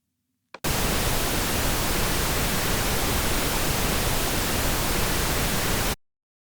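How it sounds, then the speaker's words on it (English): Pink noise from the Vitamin-R Mac app: after a tiny click, a loud, steady, even hiss runs unbroken for about five seconds, then cuts off abruptly. "or in this case, pink noise."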